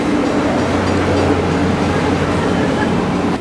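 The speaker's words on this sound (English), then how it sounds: "here comes the train again." A train rolls past at Disney's Animal Kingdom park, a loud, continuous rumble with a low steady hum throughout.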